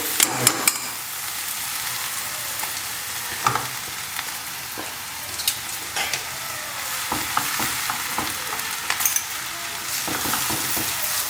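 Greens and fried onions stirred in a pan for a Kannada palya, a spoon scraping and clattering over a steady background sizzle, with a few sharper knocks of utensil against the pan, close by and no talking.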